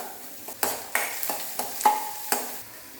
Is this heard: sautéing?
yes